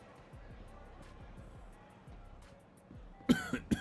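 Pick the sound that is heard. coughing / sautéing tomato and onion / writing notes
coughing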